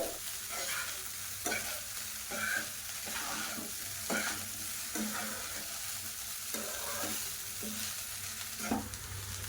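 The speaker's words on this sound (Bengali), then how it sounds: "এখন আমি আবারও এইভাবে নাড়াচাড়া করতে থাকবো। নাড়াচাড়া করে ভালো করে ফ্রাই করে নেব।" Vegetable fried rice made from leftover rice being stir-fried in a pan, a steady close sizzle broken by repeated scraping strokes of the spatula at an even rhythm.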